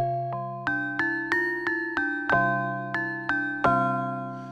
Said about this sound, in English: Glockenspiel.